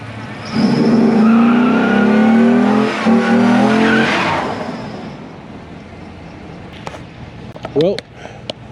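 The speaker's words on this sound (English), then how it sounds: "Let me see if I can get a little burnout footage here." A 1996 Impala SS with a swapped 6.0 LS V8 and 4L80e transmission roars through a burnout, loud engine revving with tire squeal for several seconds before fading into idle, with brief voices and clicks at the end.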